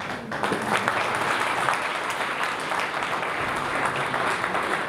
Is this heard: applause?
yes